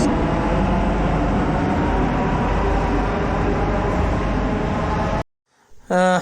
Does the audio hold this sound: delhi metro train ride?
yes